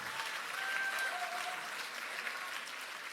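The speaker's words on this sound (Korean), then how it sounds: "노무현 전 대통령님께 큰 박수 부탁드립니다." Audience applause at the 70th anniversary ceremony of the Democratic Party of Korea, honoring former president Roh Moo-hyun: fairly faint, steady clapping from a crowd, sustained evenly throughout with a faint tonal hum running beneath.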